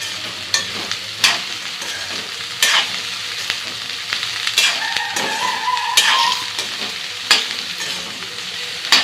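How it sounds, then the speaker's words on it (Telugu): Okra fry being stirred in a pan, a close, steady hiss of sizzling oil broken by repeated scraping strokes and occasional metallic clinks of a spoon against the pan, no voices. "ఇప్పుడు ఒకసారి కలుపుకుందామండి."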